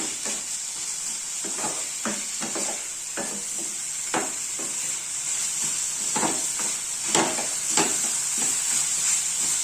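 A spatula scrapes and knocks in a pan as leafy greens curry is stirred over a steady background sizzle, with repeated close strokes and no speech.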